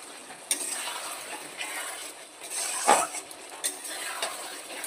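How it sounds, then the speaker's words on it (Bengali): Spoon scraping and tapping in a pan while fried eggs and potatoes are stir-fried into a masala for a dhaba-style egg curry, with soft repeated scrapes, a few sharp clicks and a faint sizzle. "ডিম দিয়ে আলু দিয়ে আমি আরেকটু সুন্দর করে কষিয়ে নেব।"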